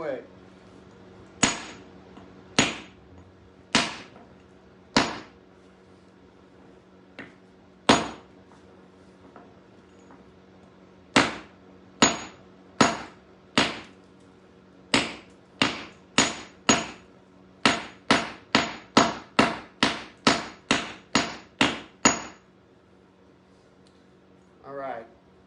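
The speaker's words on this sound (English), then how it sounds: "I'm going to give it a couple whacks, just because this guy's being a tough guy" Hammer striking a chisel set into a geode, sharp metallic clinks singly and in pairs at first, then a rapid run of about a dozen close, loud blows, with silence between strikes.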